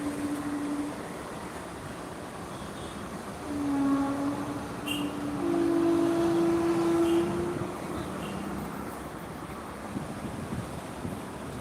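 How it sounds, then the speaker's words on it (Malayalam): A train rumbles past in the distance amid steady wind noise, its low drone building and swelling midway before easing off again. "ഇതാ വരുന്നൊരു ട്രെയിനും കൂടെ അവിടെ നിന്ന്"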